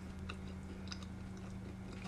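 Crunchy top crust of a chicken pot pie with soft potatoes and carrots inside, being bitten and chewed close up, a steady muffled munching with a few sharper crunches over a low background hum.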